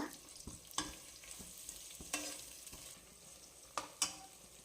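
Chopped onions fry quietly in a pan with fennel and spices for ghee rice, a faint soft sizzle broken by a few sharp utensil taps and scrapes.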